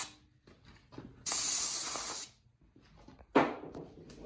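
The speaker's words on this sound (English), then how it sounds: "We then clean that area off with some card cleaner." Carburetor cleaner hisses from an aerosol can during work on a 1930 Ford Model A king pin, in a steady one-second burst followed by a shorter spray after a pause.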